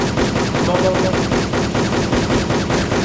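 Rapid automatic gunfire in a shooter video game rattles in a fast, dense stream of loud, close shots, continuous through the short burst.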